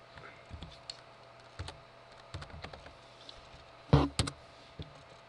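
Keys tapped on a computer keyboard in short, scattered bursts of clicks, fairly close but quiet, with one louder cluster of strikes near the end.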